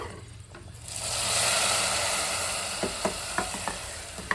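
Sweet pongal bubbling and hissing steadily in a pot on the stove, with a few soft pops and clinks near the end.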